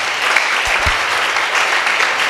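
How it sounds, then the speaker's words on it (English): A church congregation claps their hands together, a loud, steady, dense round of applause that fills the whole stretch, with a couple of low thumps near the start. "Let's clap our hand for Jesus."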